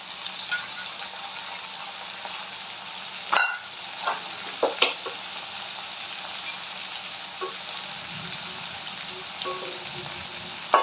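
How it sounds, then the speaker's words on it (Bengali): Vegetables and a fish head fry in a pan, a steady broadband sizzle running throughout with a few scattered clinks and scrapes of stirring; no voices. "আমি এটাকে একটু নাড়াচাড়া করে দেবো।"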